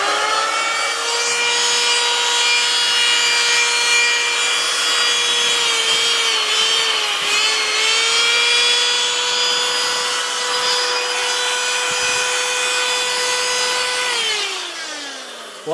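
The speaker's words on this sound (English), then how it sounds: "This motor's very loud, so be warned." Loud fan-cooled electric motor runs steadily, a harsh high whine with layered tones and a slight pitch wobble, close and continuous before winding down near the end.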